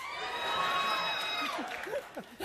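A talk show studio audience cheers and whoops loudly together, a dense roar of voices with shrill screams on top that fades out toward the end.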